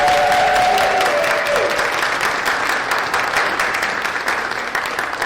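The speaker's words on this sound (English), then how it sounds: "Another round of applause for our amazing." An audience applauds actors at an acting showcase, loud sustained clapping throughout, with a brief whistle near the start and the applause slowly thinning toward the end.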